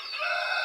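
Pet chickens kept in a backyard pen make a loud, steady run of clucking and crowing calls that carries through the short moment on its own, with no talk over it.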